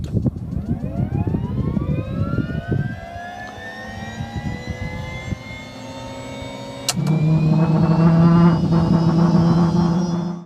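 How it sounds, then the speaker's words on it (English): A Bell Jet Ranger helicopter's turbine spools up with a rising whine climbing steadily in pitch over rumbling noise, then a sharp click and the engine settles into a loud, steady roar. "there's nothing like the sound of compressed air and fuel being introduced into the combustion chamber and then ignited into a constant cylindrical flame"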